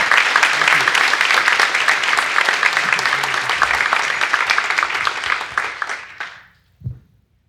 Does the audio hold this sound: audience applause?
yes